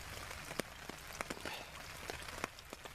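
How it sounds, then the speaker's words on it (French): Steady rain pattering on a surface, with scattered louder drops landing nearby at irregular intervals. "Il pleut toujours."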